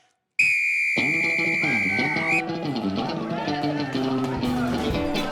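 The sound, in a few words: whistle blown to start a game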